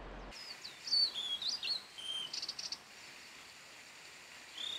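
A blue-and-white flycatcher sings a clear, high-pitched song of short whistled phrases and trills, ringing out alone against a quiet forest background.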